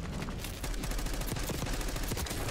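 Rapid automatic gunfire crackles from Black Ops 6 on the Nuketown map, a dense, loud stream of sharp shots firing without pause.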